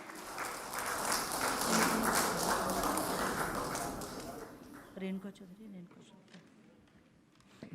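Applause from an audience at a BJP women's felicitation event honoring Sadhvi Niranjan Jyoti, steady dense clapping that swells, then thins out and fades over the final seconds.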